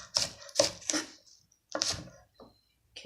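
A knife chopping green onions on a board, a few quick close chops in short clusters separated by brief silences, dry and distinct, no talking.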